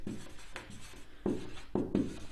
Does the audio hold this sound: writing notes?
yes